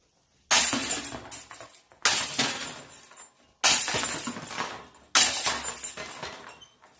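Four separate disc golf disc impacts on basket chains fitted with a silencer, each a sharp crashing jangle that rings out briefly and fades, spaced about every one and a half seconds, fairly close and with no voices.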